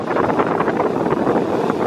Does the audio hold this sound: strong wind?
yes